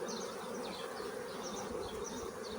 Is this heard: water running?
no